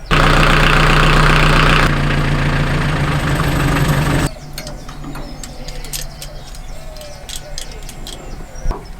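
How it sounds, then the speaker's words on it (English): A canal narrowboat's diesel engine runs loud and steady at close range, then cuts out, leaving quiet outdoor ambience with pigeons cooing and faint birdsong. "Do you want to start the engine?"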